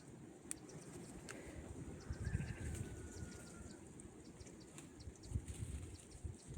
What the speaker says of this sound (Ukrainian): Пташки десь там трошки співають.